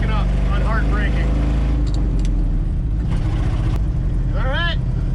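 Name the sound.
1970 Ford F250 truck driving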